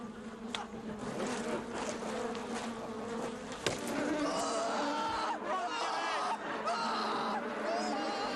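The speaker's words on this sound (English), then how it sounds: "Well, look at that. It's a beehive." Bees swarming around a beehive outdoors, a dense, continuous buzzing drone that holds steady throughout, with a faint murmur of people in the background.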